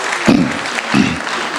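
Short burst of clapping from an audience at a mushaira poetry gathering in Hyderabad, swelling briefly twice within a second and a half, fairly loud and close.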